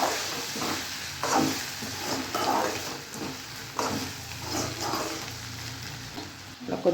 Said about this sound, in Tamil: நல்லா கொதிச்சிட்டு இருக்கு.